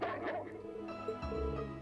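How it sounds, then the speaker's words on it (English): Richard the dog barking in the Trails of Cold Steel II video game, a couple of yapping, whimpering barks, close and fairly loud over steady game music. "he's barking towards the south, so I assume that's where the kitten went"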